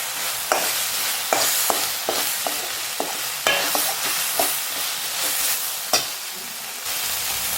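Tomatoes and crushed ginger frying in a pan hiss with a steady sizzle, broken every second or so by the scrape and clatter of a spoon stirring, close up and without talk.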